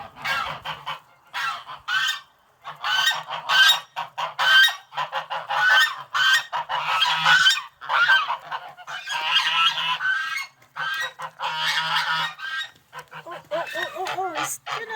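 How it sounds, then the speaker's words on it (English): Male goose (gander) honking repeatedly in a loud, close, rhythmic series of nasal calls through the evening, with a person talking intermittently among the birds. "Amorous gander's coming back to you."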